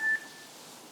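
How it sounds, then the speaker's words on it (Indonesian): A mobile phone sounds a single short, clear beep for an incoming SMS notification. The tone lasts a fraction of a second and trails off into quiet room hush. "ada SMS masuk"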